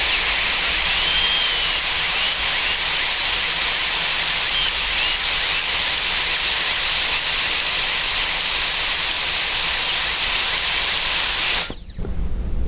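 A high-speed dental burr drills through the roof of a tooth's pulp chamber, giving a continuous loud, high-pitched whine with a hiss of water spray that cuts off abruptly near the end.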